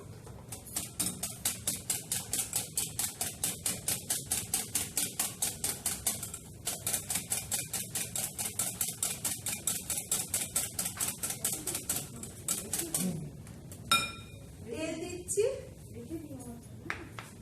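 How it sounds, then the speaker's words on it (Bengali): Milk is slowly mixed into chocolate cake batter, a whisk knocking against the bowl in a fast, even ticking rhythm that runs for over ten seconds before loosening into slower stirring. "দুধটা এবার আস্তে আস্তে আমি মিশাচ্ছি।"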